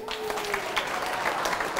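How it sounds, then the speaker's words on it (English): Round of applause from guests seated at tables during an investor information dinner, a brief burst of mid-level clapping with a faint tone briefly audible at the start. "So round of applause for them,"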